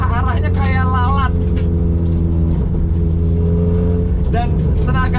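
A Honda Jazz engine holds a steady, loud drone near 4000 RPM as the car accelerates, with a voice heard over the engine at the start and again near the end.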